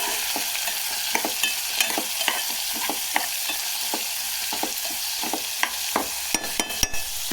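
Food frying in a pan, a loud continuous sizzle broken by frequent sharp pops and spatters, close up with no voices.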